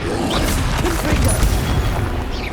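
Loud fiery booms and crashes from the Confringo blast spell in Hogwarts Legacy burst in quick succession, dense and close, filling the whole moment with rumbling explosive impacts.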